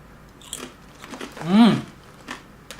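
A crispy Malaysian tapioca chip is bitten and chewed close up, giving one loud crunch followed by softer chewing.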